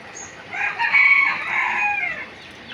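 A rooster crows once in a single long, loud, close call among farm chickens, with faint clucking around it and no talking.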